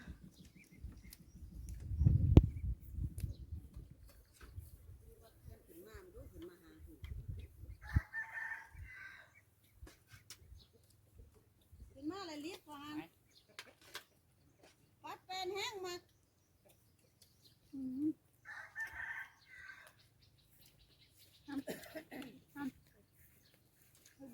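Chickens and a rooster on a rice farm cluck and crow in scattered bursts across a quiet yard, with a louder rustling thump near the start, while people talk intermittently between the bird calls.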